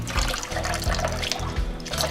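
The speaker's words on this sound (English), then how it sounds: "Now I'm going to add about a teaspoon of water." About a teaspoon of water splashes and trickles steadily into a bowl for a couple of seconds, close by, without pause.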